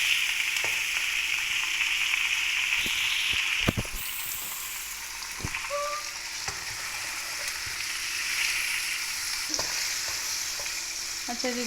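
Mutton frying in a karahi, a constant close sizzle broken by sharp metallic clacks and scrapes of a spoon stirring the meat, with no voices.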